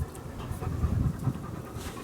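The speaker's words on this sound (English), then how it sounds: "So we brought home 2 puppies. They're Great Pyrenees mix." Great Pyrenees mix puppies panting with rapid, soft, rhythmic breaths close by, steady through the whole moment with no talking.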